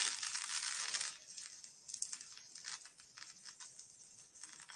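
A record player needle drops onto a vinyl LP, giving a brief crackling burst that fades into soft, irregular surface crackle and pops, quiet and close.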